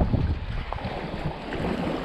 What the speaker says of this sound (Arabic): الجو هوا شويه فانا اخلي الهوا في ظهري